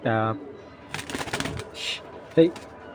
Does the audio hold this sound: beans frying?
no